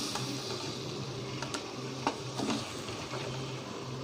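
Ginger and tomato go into hot oil in a pan for a spicy sardine fish curry, giving a steady soft sizzle with a few light scrapes and taps of stirring, close and continuous.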